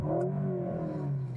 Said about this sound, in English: I'll put it into sport plus here. And you can hear it's got that active exhaust.